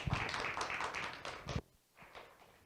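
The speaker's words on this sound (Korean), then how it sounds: "박수로 맞이해 주시길 바랍니다" Brief scattered clapping from a small group at a research presentation session for about a second and a half, then it stops and the room goes quiet.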